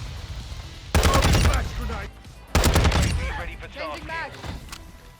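Bursts of rapid automatic gunfire ring out in Modern Warfare 2, two loud, close volleys with brief pauses, mixed with voices.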